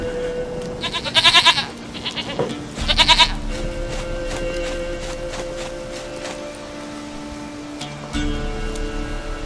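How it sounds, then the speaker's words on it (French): Goat bleats from the video game Skyrim, two loud wavering bleats early on followed by quieter bleating and game ambience, with no talking. "Une chèvre à moi, gentille, douce biquette."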